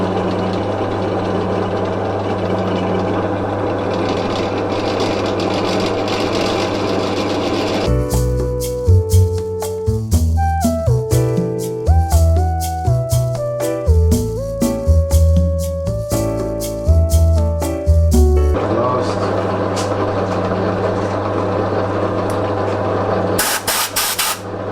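A drill bores a 10mm hole in metal in stepped increments; a steady hiss and hum gives way to about ten seconds of loud, tonal motor whine that shifts pitch in steps, then the hiss returns.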